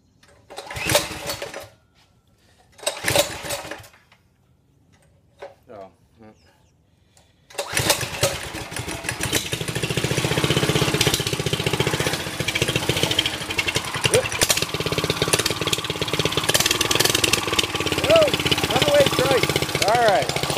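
A small mini trike engine starts with a couple of short pull-cranks, then catches and runs at a loud, buzzy, steady idle close by, with someone speaking briefly before it fires.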